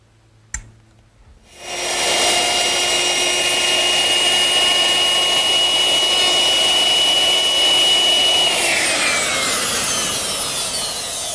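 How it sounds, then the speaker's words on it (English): A router with a 1/2-inch radius round-over bit spins up after a short click and runs on a wooden backsplash edge with a loud, steady high whine. The pitch drops slightly as the cut finishes, and there is no talking. "to round that over I used a 1/2-inch radius bit"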